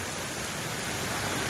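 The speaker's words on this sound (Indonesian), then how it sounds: "di bawah guyuran hujan" Heavy rain with strong wind in East Jakarta, a dense steady wash of hissing noise, loud and unbroken throughout with no voices.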